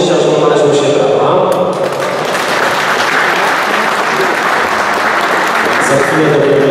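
Crowd applause after a youth boxing final at a 46 kg qualifying bout, loud and continuous for the whole stretch, with talk heard under the clapping.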